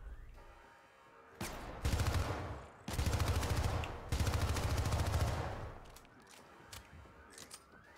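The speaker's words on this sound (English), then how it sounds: "Now I have a machine gun." Machine-gun fire in the Syndicate video game comes in loud sustained bursts, several long rapid streams separated by short pauses, with no talking over them.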